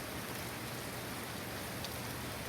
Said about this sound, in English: It is raining very hard.